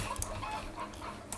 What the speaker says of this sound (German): Die Hühner folgen mir immer noch.